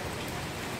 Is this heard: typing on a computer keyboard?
no